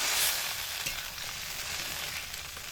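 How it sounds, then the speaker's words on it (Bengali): Hot water poured into a pan of cauliflower frying in spices, a bright hissing burst at the start settling into a steady, close sizzle and bubbling with no one talking. "এবার এর মধ্যে গরম জল পরিমাণ মতো দিয়ে দেব"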